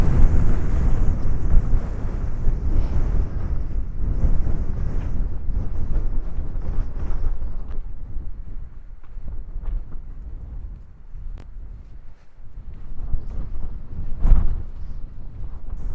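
Strong wind blows straight into the microphone outdoors along an old railway heritage trail, a loud continuous rumbling buffet that eases slightly midway, then gusts again.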